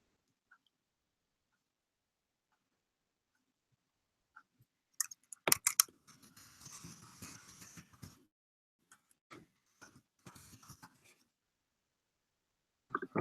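Bursts of clicking on a computer keyboard, a few isolated taps and then a dense cluster of quick keystrokes with pauses between, close and fairly quiet.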